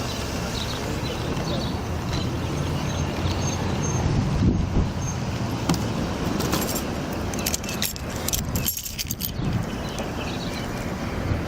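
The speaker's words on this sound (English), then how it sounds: "Where are the keys to this car?" Car keys jangle at a roadside police stop. The metallic rattle sits in steady wind and outdoor traffic noise, with a few sharper clinks near the end.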